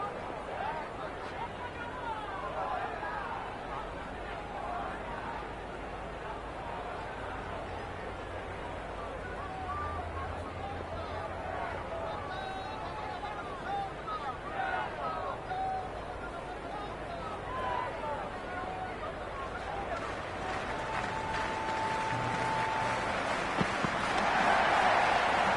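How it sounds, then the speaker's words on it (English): Crowd hubbub at a cricket stadium in an IPL 2026 video game match, CSK versus RR, a dense steady murmur of many voices that swells slightly toward the end, with a brief tonal sound near the close. "the ball hasn't even been bowled yet, and this crowd is already making it hard for me to be heard"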